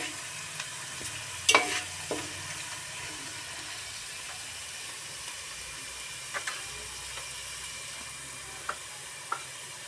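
Eggplant and tomato curry fries in a pan, a soft steady sizzle with a few sharp clinks of a spoon against the pan, close and otherwise quiet.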